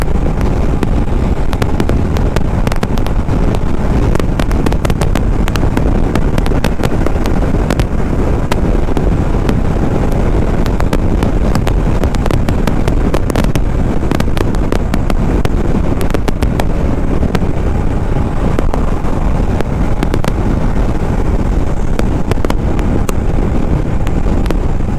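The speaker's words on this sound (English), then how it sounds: "I'm going to push the bike to 100 and see how the bike feels" A Hero Xpulse 200 4V motorcycle accelerates toward 100 on the highway, a dense steady roar of engine and wind rushing past the microphone, loud and continuous without a break.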